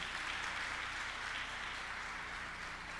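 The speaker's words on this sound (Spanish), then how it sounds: "Yo le daré un aplauso al Señor" A church congregation applauds in a continuous wash of clapping that holds at an even level throughout, blurred and reverberant with no clear individual claps and no speech.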